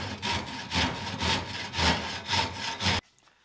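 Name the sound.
hand saw cutting wood uprights for a shelf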